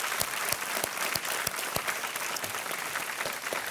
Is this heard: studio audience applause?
yes